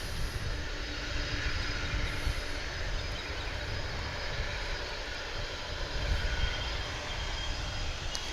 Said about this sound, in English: It is the whine of not one, not two, but three engines of this UPS MD-11.